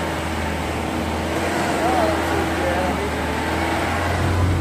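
Vehicle engine labouring on a rough road at risk of getting stuck, a steady low droning hum with slight rises in pitch, close by and continuous, with faint voices in the background.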